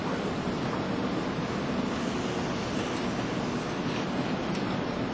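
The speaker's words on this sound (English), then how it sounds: "After that's closed, it should have all the flow going through the turbine, and it should start to spin the motor." Water rushes steadily through a small turbine once the bypass valve is shut, a loud, even broadband roar with no breaks and no talking.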